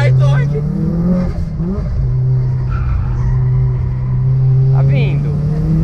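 A Subaru STI races around a track on its final lap with a loud, close engine drone and tires squealing through the corners, while people talk excitedly over the noise.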